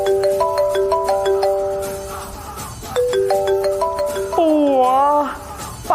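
A mobile phone rings with an incoming call, its synthetic melody stepping through short repeated tonal phrases, loud and close, with a gliding, wavering tune near the end.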